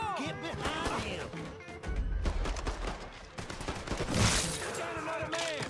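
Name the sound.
gunfire in the video game Mafia 3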